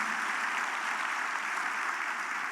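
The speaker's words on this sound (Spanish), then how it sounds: "Dale un fuerte aplauso al Señor." A church congregation gives loud applause to the Lord, a dense continuous wash of many hands clapping at once, steady and fairly distant with no distinct voices.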